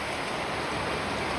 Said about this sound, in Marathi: पाऊस येतोय मस्तपैकी.